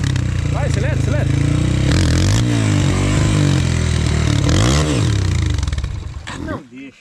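Trail motorcycle engine revving hard and loud throughout, with rising and falling pitch sweeps as the throttle is blipped, then cutting out near the end; voices speak over it.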